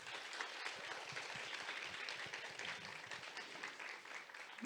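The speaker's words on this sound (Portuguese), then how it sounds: "uma salva de palmas" An audience at a medical school faculty event applauds, a continuous wash of scattered clapping at moderate distance, fairly quiet and steady throughout with no speech over it.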